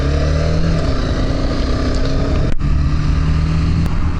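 A motorcycle engine runs steadily and loudly throughout a ride, with a continuous low drone, a brief sharp dropout midway, and no talking.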